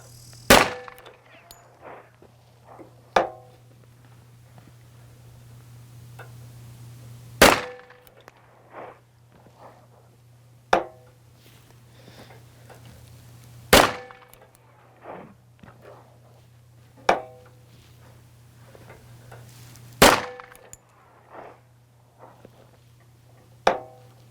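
A custom .45 Auto pistol firing 185-grain loads fires five sharp, loud shots spaced several seconds apart, each with a brief echo, over a steady low hum and faint shuffling.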